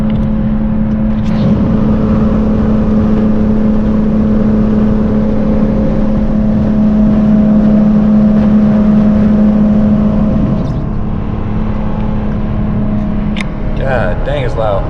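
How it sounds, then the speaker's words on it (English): A loud Lexus IS300 accelerates with its window open, the engine's steady drone under heavy wind rush for about ten seconds before easing off. "It's gonna be a lot of wind noise, but you should be able to hear how loud the car is."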